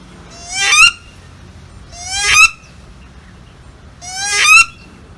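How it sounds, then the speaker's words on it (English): Three loud, drawn-out duck calls made on the water sound in an even rhythm, each one rising to a harsh peak and then stopping short, with quiet gaps between them. "So here's another call they make when they're on the water."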